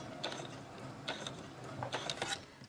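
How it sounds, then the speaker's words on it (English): A sewing machine stitches a few stitches forward and then back on a drawstring bag seam, giving quiet, close mechanical clicking bursts separated by short pauses. "And I'm going to go forward just a few stitches. And now I'll go back a few stitches."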